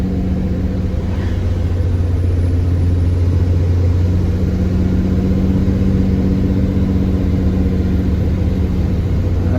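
A loaded vehicle's engine labours uphill in first gear, a loud, steady, close rumbling drone that holds at mid revs with slight rises and falls.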